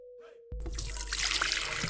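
Warm water poured into a mixing bowl of yeast for French bread dough, a steady close trickle and splash that starts abruptly after a brief hum.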